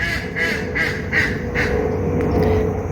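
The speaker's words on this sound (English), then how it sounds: "the ducks are talking" Ducks quack at a pond in Flamingo Gardens, a run of repeated nasal calls about every half second, close and clear over a steady outdoor background.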